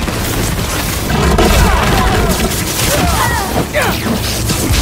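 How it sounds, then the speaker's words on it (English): In the Spider-Man video game, a grenade blast sends a loud, booming rumble across a dense, noisy fight, with a voice heard now and then under the din. "Grenade"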